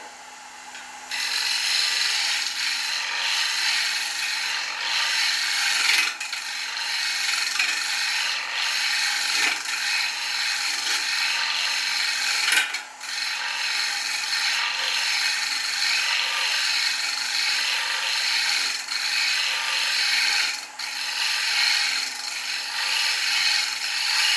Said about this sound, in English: using the 3/8 bowl gouge, just keep it nice and smooth on that surface so I don't dig in or get a catch